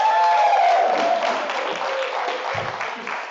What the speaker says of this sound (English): That's the only applause you get for Jane for that great meal.